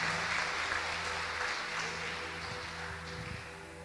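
A church congregation claps for the Lord, a thick wash of applause that starts loud and gradually fades, with a low steady hum and faint murmurs beneath it.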